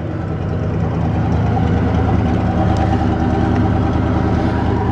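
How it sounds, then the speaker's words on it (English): A 1965 Oldsmobile 442 with a 400 V8 and automatic transmission idles at the exhaust, a loud, steady low-pitched burble with an even rhythmic throb heard up close and alone. "Let's listen to the engine. This is a 400. Take you back, let's listen to the exhaust."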